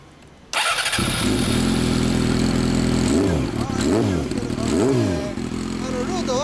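A 2007 Yamaha YZF-R6 fitted with a Hot Bodies racing exhaust starts up and settles into a loud, close idle, followed by three sharp revs rising and falling, with people talking nearby.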